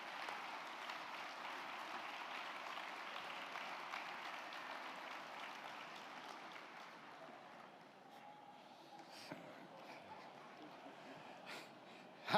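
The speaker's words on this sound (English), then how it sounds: "How about a big round of applause for these deserving Unsung Hero recipients?" An audience at an international conference award ceremony applauds the Unsung Hero recipients, steady dense clapping heard from a distance that gradually thins and fades toward the end.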